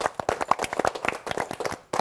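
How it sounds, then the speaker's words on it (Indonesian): Children in a classroom clap together during a maths lesson, a quick run of sharp, uneven claps lasting about two seconds before stopping abruptly. "tepuk tangan."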